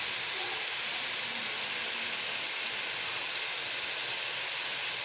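Chickpeas roasting with masala in a pan give a steady, fairly quiet hiss and sizzle that holds evenly throughout, with no talking over it.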